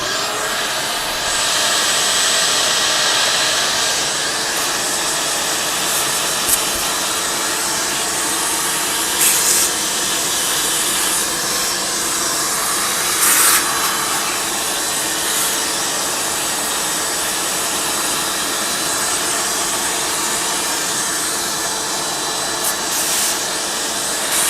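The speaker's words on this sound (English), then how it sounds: "let's vacuum this up" A vacuum cleaner drones steadily throughout while cleaning dust out of a game console under repair, a continuous loud broadband roar with brief bumps and scrapes as the nozzle moves.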